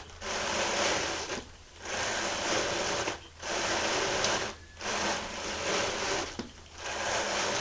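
A drum carder works strips of raw wool batting in bursts of steady whirring and scratching, roughly four runs separated by brief pauses, close and fairly loud with no talk.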